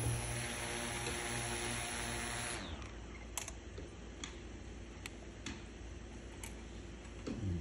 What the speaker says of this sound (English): Did you see the propellers go?